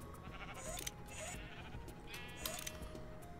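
Sheep bleating on a spawn sheep farm in a Minecraft modpack, several short bleats scattered over quiet background ambience.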